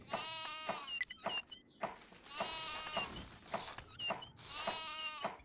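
Goats in the settlement-building video game Die Siedler 4 bleat repeatedly, several wavering, nasal cries in quick succession, loud and close with no talk over them.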